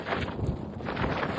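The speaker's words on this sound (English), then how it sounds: "it is windy" Strong wind on the summit of Mount Adams buffets the microphone in a steady, dense rumbling roar, with no clear gusts or pauses and no voices.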